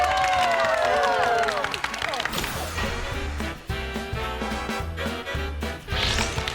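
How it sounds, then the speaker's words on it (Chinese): A studio audience on a Taiwanese family quiz show claps and cheers, with a short musical sting and bright noise at the start, then lively applause under brief voices. "掌声欢迎。"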